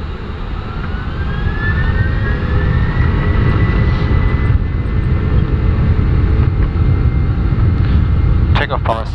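German Air Force Airbus A310 jet engines spooling up to takeoff power, a loud, steady roar with a rising whine, heard from near the wing; cockpit voices speak over it and brief clicks sound near the end.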